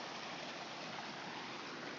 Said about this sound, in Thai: มีน้ำตกด้วย นี่ค่ะ อเมซอน น้ำตกเล็กๆ